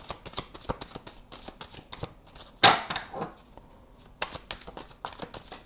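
Tarot cards shuffled by hand in a run of quick, crisp riffles and flicks, with a louder burst of cards near the middle and a short lull, then more snappy card handling, close and unaccompanied by speech.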